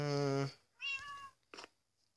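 Several cat meows inside the video game OneLife: one long harmonic call, a second rising meow, then a short faint one, spaced out with quiet gaps and no talking.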